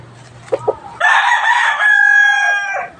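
A Talisay green-legs rooster crows once, loud and close, a long drawn-out call after a couple of soft clucks against a quiet low hum.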